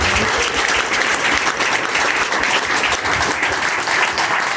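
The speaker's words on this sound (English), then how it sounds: "Let's give him a rousing round of applause" A crowd at Tailgaters Burger Co. in Hope, Arkansas gives a Marine Corps Reserve veteran a rousing round of applause at an event with the governor. The clapping is loud, dense and continuous, filling the whole stretch.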